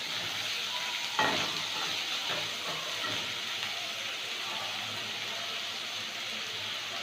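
Green chillies sizzling steadily in hot oil with chopped garlic, a spatula stirring and scraping the pan now and then, close and continuous with no voices.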